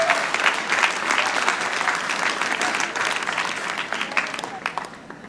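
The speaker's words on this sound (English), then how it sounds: "So give him a big round of applause." Audience at a City College commencement ceremony applauding, dense steady clapping from a large crowd that gradually thins and fades over a few seconds.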